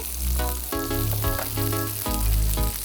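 Red and yellow capsicum with green chilies stir-frying in a hot pan make a steady, fairly loud sizzle over a strong, pulsing low tonal backdrop, with no voices.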